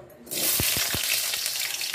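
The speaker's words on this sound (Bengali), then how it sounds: "এই তেলের মধ্যেই আলুগুলো একদম খুব লাল করে ভেজে নেব।" Potatoes dropping into hot oil in a kadai for frying, a loud steady sizzle breaking out after a brief quiet start, with a few low thumps as the pieces go in, no talking.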